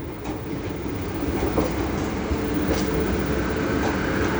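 A train runs through Leeds on the East Coast Main Line, a steady close roar of wheels on rails with faint rhythmic clicks over the joints.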